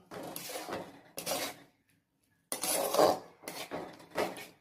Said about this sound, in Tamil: இது எல்லாத்தையும் இப்போ நல்லா கிளறி விட்டுக்கலாம்